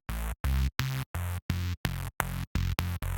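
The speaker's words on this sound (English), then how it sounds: "And then we have this sort of mid saw bass with a phaser on it." Mid saw bass from a Reason 8 synthesizer with a phaser on it, ten short gated stabs in an even rhythm separated by silences, each buzzy and bright with a sweeping, swirling tone, loud and up front.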